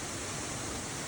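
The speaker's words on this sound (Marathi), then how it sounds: "आणि मस्त पावसामुळे धबधबा वाहत आहे." Rain-fed waterfall near Shivthar in Mahad, a steady, even roar of rushing water with no breaks or voices.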